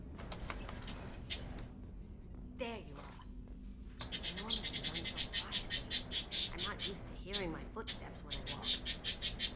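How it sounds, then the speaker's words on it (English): Pet birds squawking in a home, repeated loud rhythmic chirping calls in the second half, mixed with in-game sounds from Mass Effect 2 aboard the ship and a voice talking. "Are you used to hearing my birdies as they squawk?"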